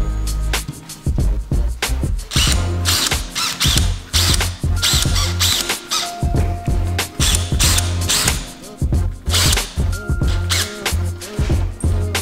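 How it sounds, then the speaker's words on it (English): Screws driven into wall studs to mount 4ft LED shop lights in a garage, heard as loud, continuous ratcheting and whirring bursts from a driver, close and steady, with no talking. "And then we just drill them right into the studs."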